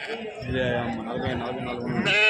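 Sheep and lambs bleat repeatedly, close by, while people talk over them at the busy outdoor Gudur sheep market.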